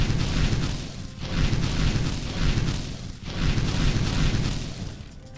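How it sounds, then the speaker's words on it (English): Fire magic explosions in the VR game Magitek, loud rumbling booms rolling in a series of roughly one-second waves with no talking. "I can use my fire magic to destroy them."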